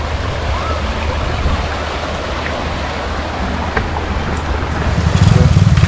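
A stream at a forest campsite in Suan Phueng, Ratchaburi, flows steadily in the rainy season, with a broad, even rush of water throughout and a slightly heavier low rumble near the end.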